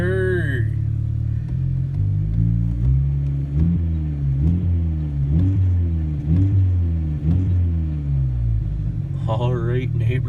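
A 2002 Volkswagen Jetta 2.0 engine revved repeatedly after a cold start, a loud, close, low growl climbing and falling in a rhythmic series of blips, with voices talking over it at the start and end.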